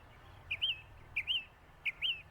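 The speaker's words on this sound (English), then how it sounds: "I thought mockingbirds sound like other birds" Northern mockingbird, the Texas state bird, calling in a neighborhood: three repeated paired whistled chirps at even intervals, clear and moderately near over low background hum, no talk.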